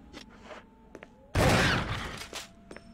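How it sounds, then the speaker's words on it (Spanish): A shotgun blast fired in the Resident Evil remake, a single loud, close burst that cuts in sharply and decays over about a second amid quieter game sounds. "aquí voy a usar la escopeta otra vez"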